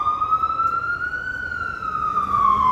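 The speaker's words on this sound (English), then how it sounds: "Is the ambulance going to go down this street?" Ambulance siren on a Manhattan street in Hamilton Heights, a steady wailing tone that rises and falls slowly, moderately loud, over a low hum of city traffic.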